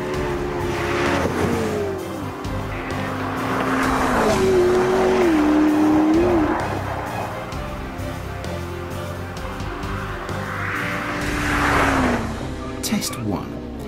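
A McLaren P1 supercar drives hard on a road test, its engine note rising and falling through gear changes with a droning, rumbling tone, while someone talks over the car throughout.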